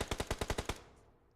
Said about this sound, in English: We do hear a lot of gunshots, but it's nothing critical happening yet.